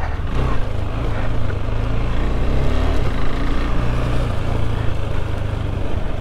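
A KTM 390 Adventure motorcycle riding off road in second gear gives a loud, steady engine drone with a rough low throb, blended with wind rush and occasional thumps from the terrain.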